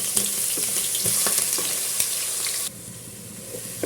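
Crushed onion, shallots, garlic, green chili and ginger fry in hot oil for chicken biryani, giving a close, loud, crackling sizzle with stirring scrapes that suddenly drops to a quieter fry near the end.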